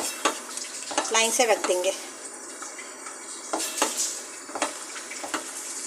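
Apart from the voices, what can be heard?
sautéing onion paste and yogurt masala in a pan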